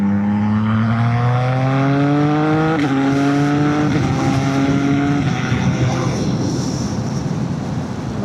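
A CF Moto 675NK motorcycle accelerates hard in third gear on a motorway slip road, its engine note rising steadily in pitch with a brief dip near three seconds, over heavy wind rush.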